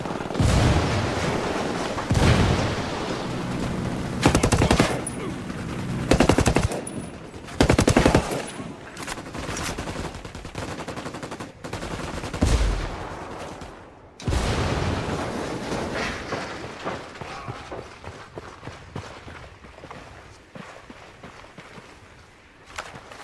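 Ghost Recon Wildlands video game firefight with loud, sustained automatic gunfire in dense bursts, some heavier booms, and brief pauses before more shooting.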